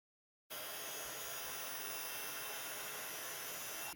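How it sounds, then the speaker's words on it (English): A heat gun blows steadily and loudly over white embossing powder, a constant close-up rushing hiss of air that starts abruptly and runs without a break. "I'm going to heat emboss those with white embossing powder."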